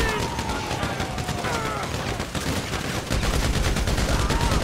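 Dense, continuous gunfire from Grand Theft Auto V, with rapid shots blending into a steady loud barrage and faint tonal game sounds running underneath throughout.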